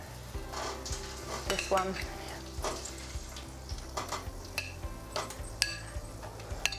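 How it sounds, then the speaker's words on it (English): Potatoes sizzling and crackling steadily in hot oil in a pan, with utensils clinking and scraping over it and a brief voice speaking. "they're just starting to sizzle in that oil"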